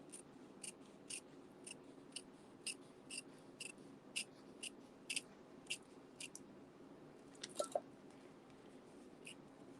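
Scissors snip through ribbon in a quick run of crisp, close, faint cuts, followed by a brief rustle.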